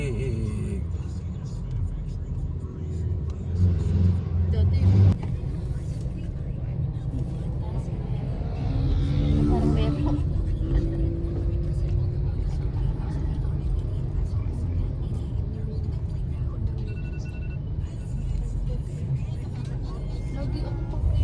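Road traffic with cars driving past, a steady low engine rumble and drone from nearby vehicles that swells and fades over about twenty seconds, with faint voices in the background.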